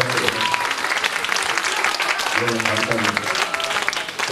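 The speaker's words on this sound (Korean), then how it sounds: "박수를 축복해드립니다" A church congregation at a family worship service claps steadily, loud and continuous, while someone speaks briefly over the applause as it carries on.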